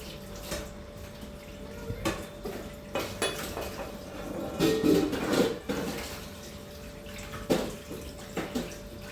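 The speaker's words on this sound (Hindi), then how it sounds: "और बर्तन धो लो जब खा रहे हो तो" Dishes and utensils are washed under running tap water at home on a rainy day. Steady splashing water is broken by intermittent clinks and clatters of utensils close by, with no speech.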